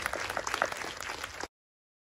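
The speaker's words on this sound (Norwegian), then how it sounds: "Vi kan klappe for Inga." Audience clapping at a live knitting podcast event at a film festival in Fredrikstad, a short, faint burst of applause lasting about a second and a half before cutting to silence.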